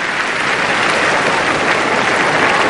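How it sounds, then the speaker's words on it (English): Large cricket crowd at a 1992 World Cup match between England and the West Indies applauds a diving fielding effort, a dense, loud, continuous roar of clapping filling the stadium. "there's applause from the crowd here for Williams for the effort"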